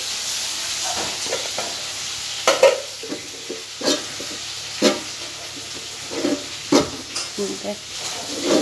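Chicken for chilli chicken fries in a pan under a loud, steady sizzle and hiss, broken by rhythmic scraping strokes of the stirring utensil roughly every second.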